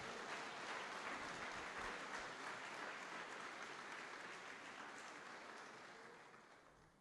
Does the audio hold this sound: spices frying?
no